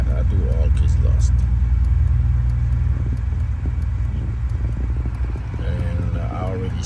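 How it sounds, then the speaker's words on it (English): A 2005 Mercedes-Benz CLK320 engine idles after starting, a steady low rumble that stays close and constant, with a person talking faintly over it. "And I already started the other car."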